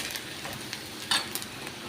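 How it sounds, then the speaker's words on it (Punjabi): Soft, steady sizzle of tempering spices frying in hot oil for dal, with a few light pan clinks, quiet and close. "ਹੁਣ ਜੀ ਨਾਲ ਦੀ ਨਾਲ ਜੀ ਆਪਾਂ ਤੜਕਾ ਭੁੰਨ ਰਹੇ ਹਾਂ"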